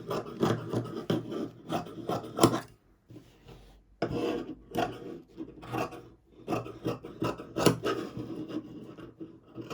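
Scissors rasp through jacket fabric as a tailor cuts parts for a bespoke English-style jacket, coming in close, scratchy bursts of a few seconds separated by brief pauses, with no talking.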